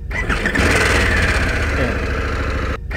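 A Harley-Davidson Pan America 1250 motorcycle fires up with a one-touch starter, cranking briefly before settling into a loud, close idle that ends in a short silence.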